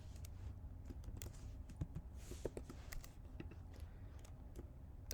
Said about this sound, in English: here you can type an answer option